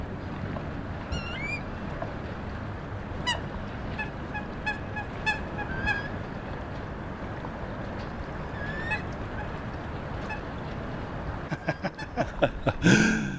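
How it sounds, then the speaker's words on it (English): Ducks quack and honk intermittently in the distance outdoors, over a constant hiss of background noise, with a few louder calls near the end. "we can hear the little ducks outside."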